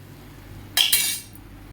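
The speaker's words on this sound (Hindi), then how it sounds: "मैं तब तक बर्तन धो लेती हूँ।" Dishes are washed in a home kitchen: a brief, bright clatter of cutlery and metal utensils knocks together twice in quick succession, then fades against quiet background hum.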